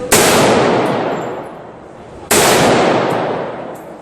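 An AK rifle fired on semi-auto: two loud single shots about two seconds apart, each a sharp crack followed by a long ringing decay.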